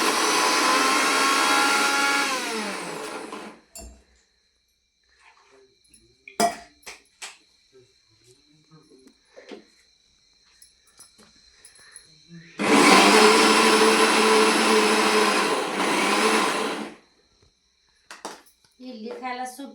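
An electric mixer grinder grinds poha for idli batter in a home kitchen, running loudly in two bursts of a few seconds each, separated by quieter clattering and brief handling noises.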